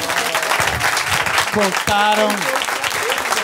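A stand-up comedy show audience claps steadily for a couple in the crowd, the dense applause running throughout while a voice talks over it.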